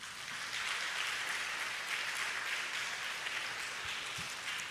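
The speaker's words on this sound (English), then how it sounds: "Can we give the God the best of our clap offerings?" A church congregation at a Sunday morning service keeps up a steady, sustained round of clapping, an even wash of many hands heard from a distance with no voices over it.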